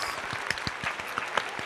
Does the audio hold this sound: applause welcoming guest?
yes